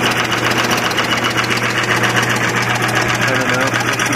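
A Harbor Freight 3-in-1 multipurpose machine running at speed, a loud steady motor whine with a buzzing, ticking vibration throughout, close and continuous.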